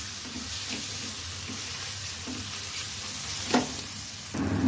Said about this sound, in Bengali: মশলাটা ফ্রাই হয়ে গেছে,